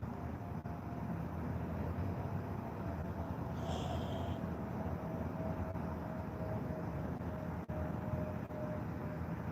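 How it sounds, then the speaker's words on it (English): An airplane passes high overhead outdoors near an abandoned house, heard as a steady, distant broadband rumble with a faint sustained drone running through it. "Do you hear the airplane?"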